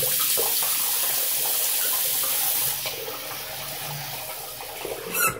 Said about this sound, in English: Don't mind the water for a second here.